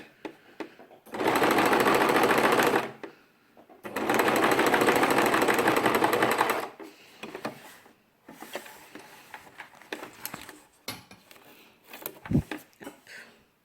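A sewing machine stitches a line of fabric with the foot guiding along the fabric edge while making a Montessori ball: two loud sustained runs of rapid stitching, then quieter handling noises and clicks.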